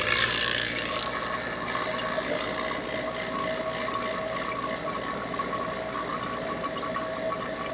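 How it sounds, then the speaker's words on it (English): A vacuum pump runs with a steady, loud mechanical drone and light rattle while a Senville Leto mini-split is being installed, starting with a slightly louder surge and then holding an even hum throughout. "I'm going to turn on the vacuum pump."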